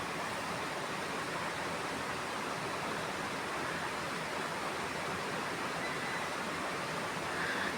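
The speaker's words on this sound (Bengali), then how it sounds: "পানিটা বলক এসে গেছে।" Water at a rolling boil in a covered pot for a pangas fish curry, a steady, dense hiss and bubbling roar that holds evenly throughout with no talking.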